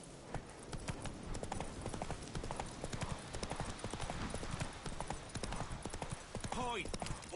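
Roach the horse trots in The Witcher 3, steady rhythmic clip-clop of hooves close by and continuous throughout, with a brief whinny near the end and speech mixed in.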